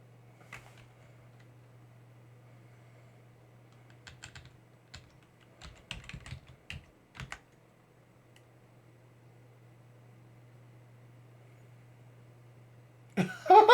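Typing on a computer keyboard, scattered clusters of light clicky keystrokes in short bursts over a steady low hum, with a louder noise cutting in at the end.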